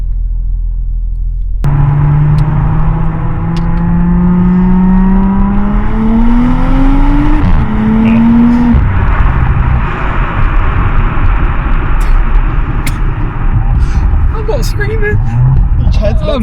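An Audi S5 Sportback fitted with a downpipe and RS exhaust drones loudly and steadily, its engine tone rising as it accelerates from inside the car, with a deep continuous rumble throughout.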